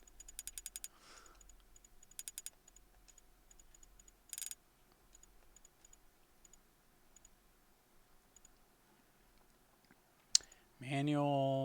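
Clicking of keys while typing network settings in Socom Confrontation, in short quiet bursts of rapid ticks with pauses between them, ending in a louder burst of sound.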